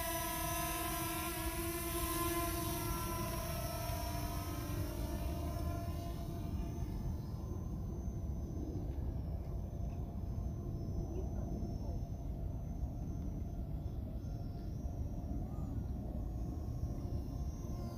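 JJRC X12 Aurora drone taking off and flying outdoors over a field, a steady high motor whine that falls in pitch as it climbs away and fades into a faint distant hum.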